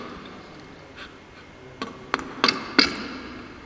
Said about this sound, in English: the unwanted workpiece material is removed from the required dovetail area with the aid of plain edge chisel and wooden hammer